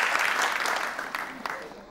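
Studio audience applauding on an Afghan Family Feud–style game show, a dense steady wash of clapping that fades slightly toward the end, with no clear voices over it.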